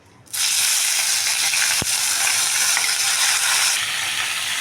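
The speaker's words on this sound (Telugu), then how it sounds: "ఇప్పుడు ఇదే నూనెలో మనం టమాటాలు పచ్చిమిరపకాయలు రెండు వేసేసుకున్నాం" Tomatoes and green chillies hit hot oil and burst into a loud, steady, close sizzle that holds unbroken to the end, with no talking.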